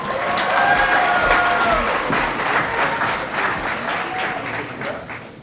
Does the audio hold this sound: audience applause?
yes